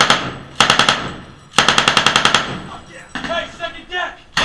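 An M240 machine gun fires two loud, close bursts of rapid shots, the second longer, followed by a shouted voice and more distant gunfire.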